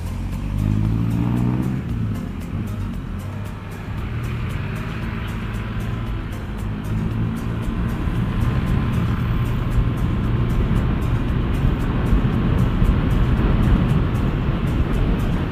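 A Honda Click 150i scooter fitted with an Asia pulley set accelerates hard toward top speed on a bypass road, its engine drone rising steadily and loud over heavy wind rush, with no talk.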